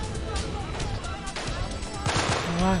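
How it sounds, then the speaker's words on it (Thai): Rapid bursts of gunfire crack repeatedly in the video game Delta Force: Black Hawk Down, overlapping with excited talking and background effects, with sharp shots clustering near the end. "เสียงปืนเนี่ยถึงตรงข้าม"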